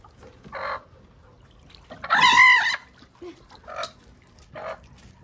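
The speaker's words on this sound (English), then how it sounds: "this broody hen is out walking around and not being broody" Broody hen clucking on a farm, a few short clucks spread out with one louder, longer squawking call in the middle, fairly near against a quiet background.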